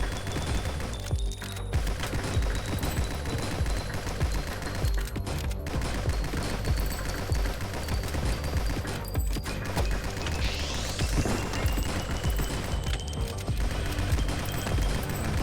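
A video game rifle loaded with explosive magazines fires continuously, a dense, loud stream of rapid shots and blasts running through the whole stretch with no talk over it.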